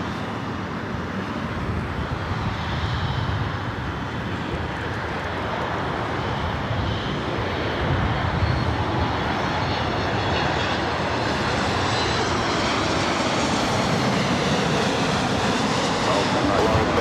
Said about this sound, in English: Flight coming in from Calgary, a 737 at MAX 8